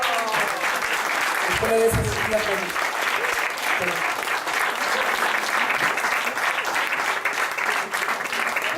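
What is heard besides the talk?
audience applause at magic show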